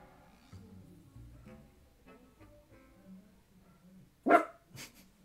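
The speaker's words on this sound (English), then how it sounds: "Dog, be quiet." A dog barks in the Fire Emblem Engage video game, a sharp loud bark followed by a second shorter one near the end, after quiet stretches of soft game sounds.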